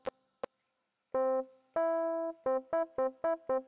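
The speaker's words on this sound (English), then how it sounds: "If I press here, we should listen to a note." A button on a homemade Arduino MIDI controller triggers synth notes: two short clicks, then a held tone, a longer lower note and five quick repeated plucked notes in a steady rhythm, clear and close with no talk.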